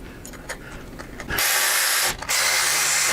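Screws are driven into a breather plate on a Zombie Breath intake with a power driver, a light mechanical clatter giving way to two loud, close whirring bursts, each lasting about a second.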